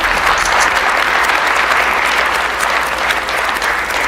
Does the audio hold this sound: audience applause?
yes